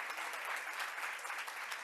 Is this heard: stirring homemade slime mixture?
no